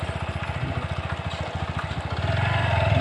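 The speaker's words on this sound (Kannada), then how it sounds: "ನಮ್ದೇನು ಆಫ್ ರೋಡಿನ ಬೈಕ್" An off-road motorbike engine runs close by on a rocky village track, a rapid, even putter that grows louder and rougher toward the end.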